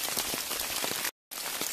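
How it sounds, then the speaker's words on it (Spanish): Steady rain falls through the Irati beech forest onto leaves and dry ground, a dense even patter close by, broken by a brief cut of silence partway through. "La tierra está seca y está absorbiendo toda la lluvia"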